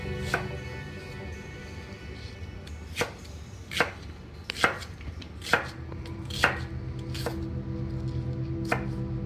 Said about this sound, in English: And with the onions, basically what we're going to do is kind of chop them up.